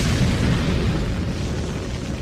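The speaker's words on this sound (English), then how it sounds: "Now fire those more modern-looking rockets." A rocket-firing sound effect from a classic sci-fi radio drama, heard as a continuous, loud, broadband roaring rush that holds steady for the whole short clip.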